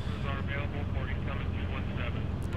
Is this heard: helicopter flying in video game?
yes